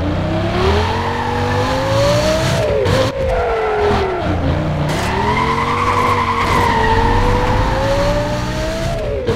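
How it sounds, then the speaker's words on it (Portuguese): Car engine roaring loudly in Need For Speed: Most Wanted on PC, a sustained revving drone with rising and falling pitch sweeps as the car accelerates, with tire squeal mixed in, steady and close throughout without talk. "Se liga só no barulho desse carro."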